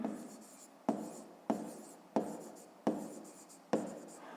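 Pen writing on paper during a fifth-grade math lesson, heard as six rhythmic scratching strokes, each starting with a sharp tap and trailing off, close and fairly quiet with no talk.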